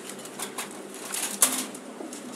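A pair of short face pigeons make soft, brief coos and a quick flutter of wings close by, in a quiet space with no speech.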